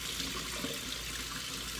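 Cold tap water runs steadily into a pot of boiled eggs in a kitchen, a faint, even splashing flow with no talking.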